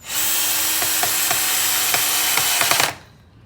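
A power drill drives screws into a dragon fruit trellis with a loud, steady whine lasting nearly three seconds, punctuated by clicking ticks, then cuts off abruptly.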